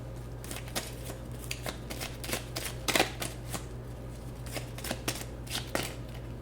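Tarot cards shuffled by hand, a run of quick, crisp riffling bursts in an irregular rhythm, close and fairly quiet, with no talk.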